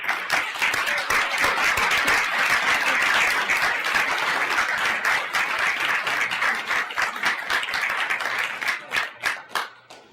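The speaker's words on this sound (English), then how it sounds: "let's give this gentleman a warm round of applause" An audience at a forum gives a guest speaker a warm round of applause, dense steady clapping from a full room that thins toward the end into scattered individual claps.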